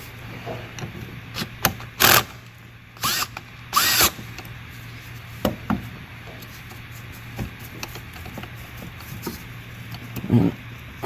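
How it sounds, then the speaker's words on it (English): A ratchet fitted with a 10mm socket loosens the negative battery cable on a Volvo 3.2L SI6 engine, giving short bursts of clicking separated by handling clatter over a low steady hum, close up. "I'm going to remove the negative battery cable. I'm going to be using a 10mm socket."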